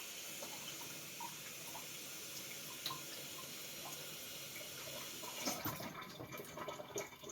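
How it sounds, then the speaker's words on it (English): A steady stream of water runs from a tap into a pot, a continuous hiss that shifts in tone toward the end as it fills. "Put in 3 cups of water."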